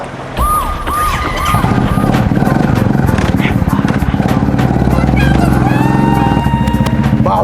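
Engine of a vehicle on a road, revving loudly and close with a rough, pulsing drone that rises and sustains, while wind buffets the microphone and voices talk over it.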